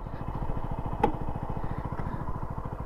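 A Honda Pop 100 motorcycle engine putters at idle nearby, its rapid even pulses steady throughout, with one brief sharp click near the start.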